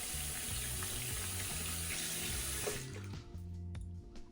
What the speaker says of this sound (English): we'll give it a little bit of a rinse underneath the faucet